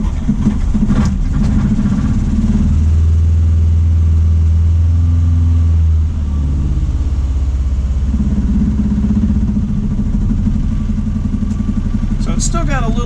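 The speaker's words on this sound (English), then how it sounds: "So now I'm going to try firing this thing up and seeing if we can make it run." A 1983 VW GTI engine, still stumbling slightly, fires and runs on its own, its steady low rumble filling the clip with loud idling and light revving and no speech over it.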